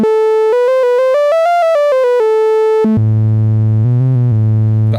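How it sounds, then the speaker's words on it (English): A loud Eurorack modular synthesizer oscillator drones steadily, stepping through a rising and falling sequence of pitches before dropping to a low, unbroken buzzing tone that rings on without stopping. "But our oscillator's not stopping. This is ringing forever."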